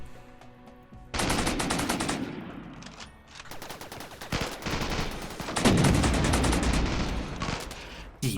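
Sustained automatic gunfire in RimWorld, dense rapid volleys rattling loudly for several seconds with brief gaps between bursts.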